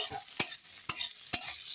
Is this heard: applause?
no